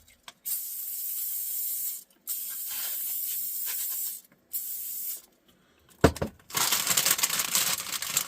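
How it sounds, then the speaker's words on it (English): Cooking spray hisses onto food inside its bag in three short bursts, close and clear, followed by a louder crinkling and rustling of the bag. "just spray them inside the bag they come in"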